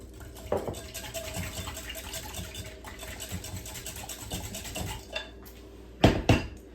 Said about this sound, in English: we're gonna mix this up and incorporate the eggs